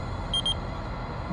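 Short electronic beeps, two quick high-pitched tones in succession, sound over a low background hum, serving as an eerie signal within a spoken horror story.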